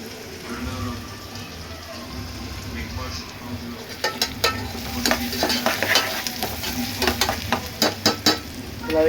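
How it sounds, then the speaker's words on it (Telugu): Onions frying in a pan for chicken curry, a continuous close sizzle with sharp scraping stirs of a spatula growing more frequent in the second half. "ఫ్రెండ్స్, ఇప్పుడు ఉల్లిపాయలు అనేది ఇలా వేపుకోవాలి."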